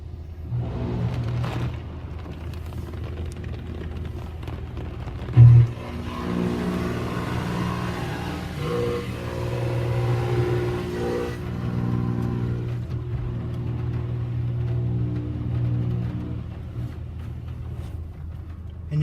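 A car idles and then rolls slowly into a Shell automatic car wash in Newmarket, with a steady low engine drone throughout and a brief bump partway in. A person talks quietly over the engine.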